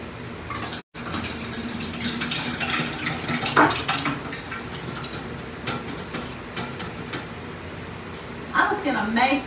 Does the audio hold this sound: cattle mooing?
no